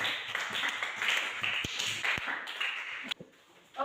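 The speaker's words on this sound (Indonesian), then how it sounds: "tepuk tangan untuk kelompok" A group claps together in a dense, steady patter for several seconds, then the clapping thins out and stops near the end.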